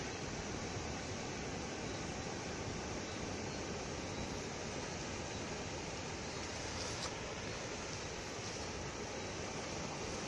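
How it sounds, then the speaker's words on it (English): The George River flows out at its mouth in St. Joseph, Barbados, a constant broadband rush of water that stays loud and unbroken from start to finish, with no voices. "This is George River here in St. George."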